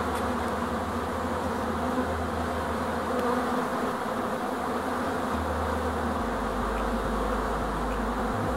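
Honeybees swarm around a hive on a good foraging day, a dense, continuous buzz filling the air at a steady level throughout, close by and with no voices over it.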